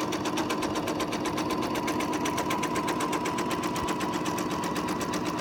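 A sewing machine stitches steadily along a Farrell's Path-Easy quilting template, giving a close, even, rapid needle chatter that runs without a break.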